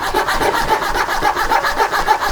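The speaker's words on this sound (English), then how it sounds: "you can literally hear the blade grinding" A blade is rubbed left to right across a blade modifier, giving a loud, close, rhythmic rasping grind repeated steadily with no voices.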